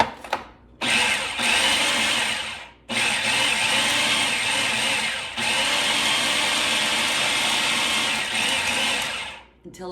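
A blender whirs loudly in long bursts while mixing empanada dough with an egg, pulsing in three extended runs separated by brief pauses, the motor sound close and steady.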